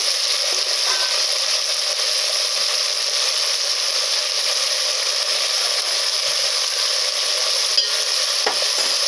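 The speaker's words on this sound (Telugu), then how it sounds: "ఆ క్యాలీఫ్లవర్ అంతా కూడా వేసేసి నూనెలోనే బాగా వేగనిచ్చి" Cauliflower frying in hot oil with salt and turmeric, a steady dense sizzle with occasional stirring scrapes, loud and continuous with no voices.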